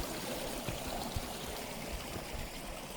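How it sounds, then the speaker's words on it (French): A small stream flows through woodland along a granite trail near Chamonix, a steady close rushing and trickling wash of water running alone and unbroken throughout. "Petit cours d'eau là."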